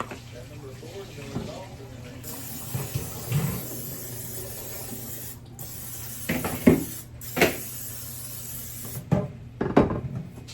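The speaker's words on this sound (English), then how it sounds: "I'm just gonna spray it with this" Cooking spray hisses into a casserole pan for a hobo casserole in a few seconds of steady spraying, followed by clatters and rubbing sounds, with a person talking over much of it.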